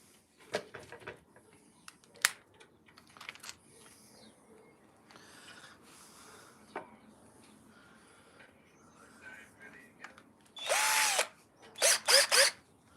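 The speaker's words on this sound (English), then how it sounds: "Right, now drill it again." A power drill whirs in a couple of short bursts near the end, drilling wood, after quiet clicks, knocks and faint handling noises.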